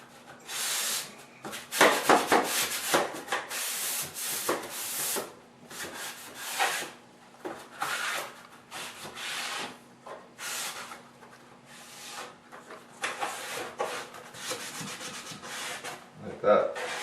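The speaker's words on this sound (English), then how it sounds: "So now that we've sanded our frame" Sandpaper rubs back and forth over a painted wooden window frame during prep for repainting, working in steady bursts of close, rasping strokes with short pauses between them.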